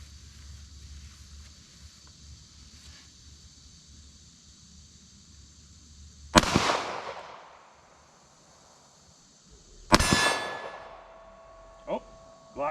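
Two sharp Glock pistol shots ring out a few seconds apart outdoors, each a loud crack with a ringing metallic tail, followed by smaller clicks from a malfunctioning gun over faint wind.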